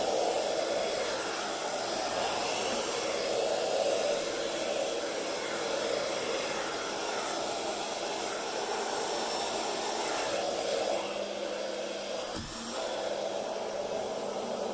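A powerful air blower gun used on paint gives off a steady, close hissing rush of air that runs unbroken throughout, no talking.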